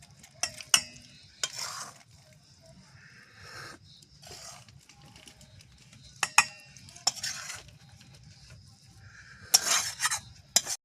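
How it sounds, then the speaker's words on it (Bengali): Carrot halwa is stirred with ghee in a pan, giving quiet scraping and intermittent spoon-on-pan knocks over a soft low sizzle, with a few brighter clinks at irregular intervals. "ঘি দেওয়ার পরে অল্প একটু নাড়াচাড়া করে নিচ্ছি"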